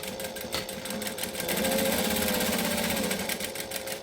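A sewing machine runs close by, tacking wallet fabric along three sides, its motor hum rising into a steady, rapid stitching drone for a couple of seconds before easing off.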